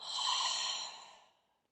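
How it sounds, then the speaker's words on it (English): A single soft, airy exhale through an open mouth during yoga practice, breathy and close, fading out over about a second. "Exhale, open the mouth, set the breath free, let it go."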